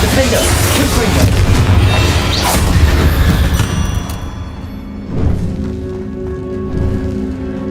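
Confringo blasting spell exploding in the Hogwarts Legacy video game, a loud booming blast amid dense battle sounds and spell whooshes, fading into a quieter tail.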